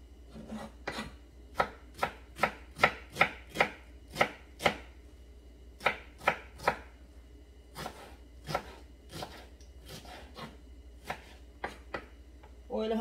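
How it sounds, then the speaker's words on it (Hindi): Onion being chopped with a knife, a run of crisp, close blade strikes on a board in quick irregular bursts with short pauses between groups. "अनियन को हम चॉप कर लेंगे।"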